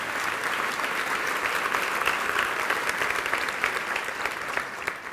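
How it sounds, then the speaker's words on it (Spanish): A church congregation applauds during a Spanish-language worship service, a dense, steady wash of many hands clapping together, loud and close, holding for about five seconds and easing slightly at the end. "dale un aplauso a Dios con todo tu corazón"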